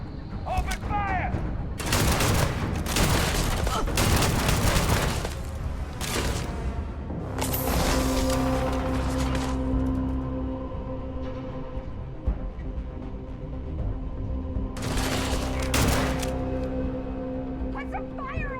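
Bursts of gunfire from a sci-fi shooter game fill a long, loud stretch, with rapid volleys and heavy booms recurring over a steady electronic drone, while voices shout in the background.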